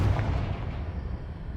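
A Confringo blasting spell explodes in Hogwarts Legacy as a single heavy boom that decays into a low rumbling tail, with no talking.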